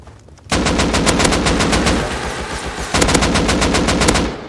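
Automatic rifle fire in the video game Rust, with two loud, rapid bursts of close shots separated by a brief gap.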